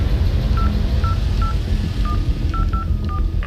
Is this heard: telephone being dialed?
yes